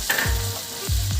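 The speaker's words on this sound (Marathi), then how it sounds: "याच्यात आपण अद्रक घालून घेऊ" Ginger and garlic sizzle steadily in hot butter, a close, continuous crackle with soft stirring scrapes as the pan is moved, while garlic butter chicken is cooked at home.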